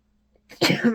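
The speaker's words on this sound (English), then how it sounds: "I'm gonna sneeze again." A single sharp human sneeze bursts out after a brief quiet intake of breath, close and loud while a person works on a quilt indoors.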